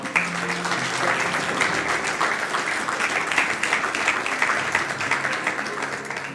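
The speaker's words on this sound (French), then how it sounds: "On peut acclamer pour le Saint-Esprit." A congregation at a prophetic church service applauds together, a dense, steady wave of clapping that holds at full strength from start to finish with no pauses.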